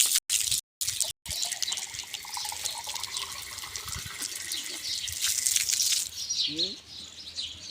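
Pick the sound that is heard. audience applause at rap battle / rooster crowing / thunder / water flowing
water flowing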